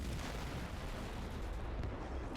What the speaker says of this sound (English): And that's our mortars.